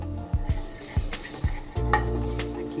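Garlic sizzling in melted butter in a pan, a soft crackling fry broken by a few sharp knocks of a utensil against the pan before a brighter burst of sizzle.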